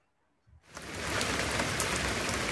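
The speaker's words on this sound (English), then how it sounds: "Oh dear, it's raining again." Steady rain begins after a brief quiet moment, quickly building into a dense, continuous hiss of drops falling on surfaces that holds loud and even to the end.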